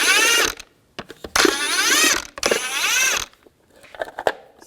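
A hand ratchet turns a 22mm socket to loosen cover bolts on a 2002-2006 Chevy Avalanche truck, giving three bursts of rapid clicking separated by short pauses, close and fairly loud.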